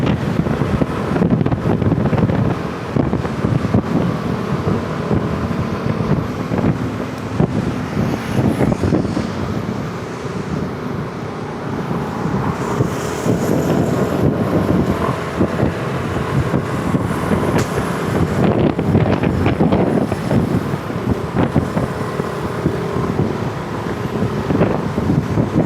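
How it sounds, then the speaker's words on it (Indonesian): Steady wind roars across the microphone at an elevated light rail construction site with an unfinished station, a continuous loud rushing with gusty buffeting and no speech. "Di sini angin"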